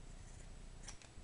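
Scissors slice once down the middle of a folded small square of material for DIY feather earrings, a quick close snip over quiet room noise.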